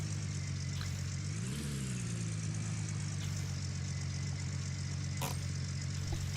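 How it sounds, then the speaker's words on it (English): Truck engine in the video game Gold Rush as it reverses, a steady low rumbling drone that briefly rises in pitch as the throttle is pushed, then settles back to an even idle-like hum with a couple of faint clicks. "We're going to try and back the truck up."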